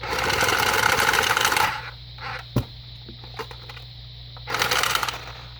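Playing cards shuffled for a blackjack game, a loud dense riffling burst opening the clip, then quieter scattered clicks and one sharp tap before a second riffle near the end, with no talking.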